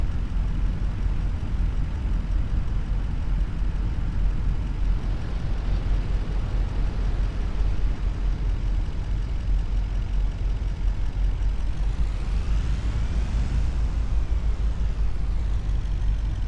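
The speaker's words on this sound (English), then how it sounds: "The sound of the engines vibrating the box on the back." Deep, steady engine rumble from a farm truck with a rattling cargo box on the back, driving through a rice field in Farming Simulator 25; a continuous low drone holds for the whole stretch, with a brief rising whine near the end.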